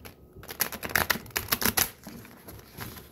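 Stiff tarot cards riffled and slid together in quick papery bursts of flicks and clacks, close up, with no talking.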